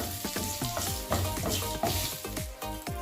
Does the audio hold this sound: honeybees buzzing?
no